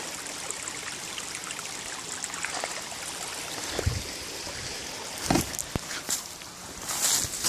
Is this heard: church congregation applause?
no